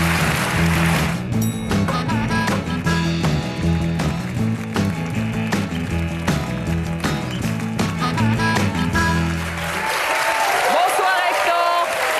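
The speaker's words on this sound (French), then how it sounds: "Je vous demande d'applaudir Hector Aubalque." Audience applause for Hector Aubalque, a painting-themed stand-up guest on a French show, with clapping running under loud music and then swelling more openly as the music drops away at the end.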